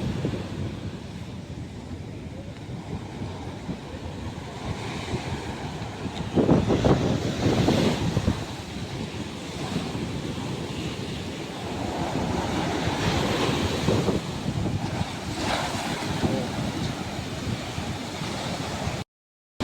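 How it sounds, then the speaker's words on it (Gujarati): Stormy sea waves crash and wash steadily onto a beach at a chowpatty seafront, a continuous loud roar of surf swelling in bursts, mixed with wind buffeting the microphone. "દરિયા મોજા ખૂબ તોફાની છે"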